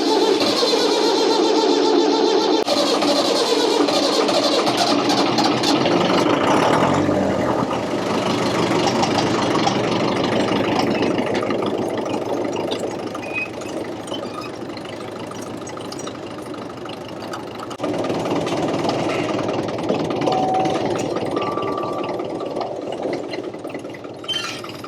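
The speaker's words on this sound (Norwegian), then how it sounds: "Så nå får vi prøve å få liv i traktoren." An old farm tractor engine turns over and settles into a loud, rough idle. The steady mechanical rumble and knock carry on close by for the whole stretch, easing slightly partway through and then rising again.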